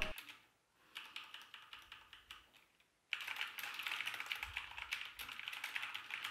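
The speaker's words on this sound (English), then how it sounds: "a K65 mechanical keyboard with red switches" Rapid typing on a Corsair K65 mechanical keyboard with red switches, a dense stream of crisp clicks and clacks, close up, pausing briefly before resuming louder and faster.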